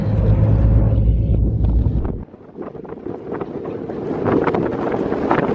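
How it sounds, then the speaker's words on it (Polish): A ferry crossing the sea to Ibiza, with heavy wind buffeting the microphone at first, then a lower rushing drone of the boat and water with gusts rising again. "tak, jesteśmy już na promie. Płyniemy."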